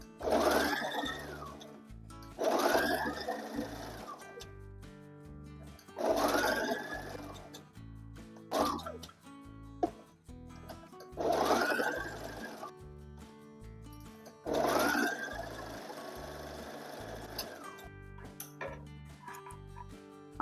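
A sewing machine stitching a long gown in repeated short runs of a few seconds each, separated by brief pauses, with background music playing throughout.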